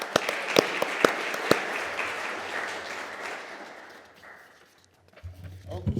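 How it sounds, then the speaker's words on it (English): An audience applauds at a medical conference, with sharp nearby claps standing out over the crowd, then the applause tapers off and a speaker's voice comes back in at the end. "Just give them another round of applause."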